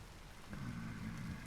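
Steady rain falls in the video game Vintage Story, a constant hiss with a low rumble swelling midway through the brief moment, with no talking.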